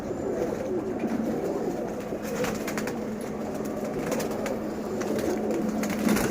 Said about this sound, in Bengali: তো কবুতরগুলোকে খাবার দিয়ে দিলাম, তো এই যে খাচ্ছে